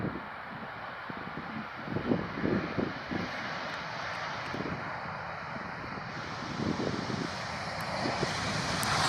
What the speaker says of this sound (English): This Airbus A350 pilot making a super smooth landing in Amsterdam